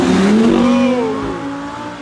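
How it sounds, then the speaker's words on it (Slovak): Loud car engine revving hard close by, rising in pitch and then easing back into a sustained roar, with no talk over it. "Toto auto úplne vykrikuje tým zvukom."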